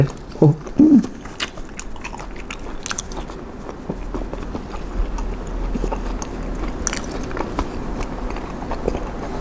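A large fresh shrimp from a spicy Thai lime and shrimp salad is eaten close up: a couple of loud, sharp bites come first, followed by continuous soft, wet chewing.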